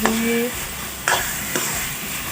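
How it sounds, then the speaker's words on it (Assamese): A pumpkin laddu mixture being stirred in a pan over a low gas flame, with a few scraping strokes at irregular intervals over a steady background hiss, close up, with no talk. "এতিয়া মই ভালদৰে লৰাই থাকিম অকণমান সময়"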